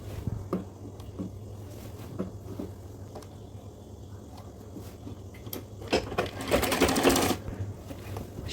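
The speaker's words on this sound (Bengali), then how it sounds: "কোমর ব্যান্ডের সাথে কুচি দেওয়া কলির চিহ্নিত স্থানগুলো ফিটিং করে সেলাই করে নেব" A sewing machine stitches a pleated salwar onto its waistband with a low steady mechanical hum and light clicks, building to a brief louder rattling burst near the end.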